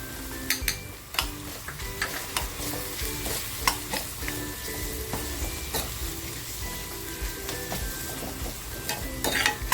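Spices sizzle in hot oil for an onion and garlic chutney while a spoon stirs and scrapes the pan, a steady close frying hiss with irregular clinks and scrapes, no voices.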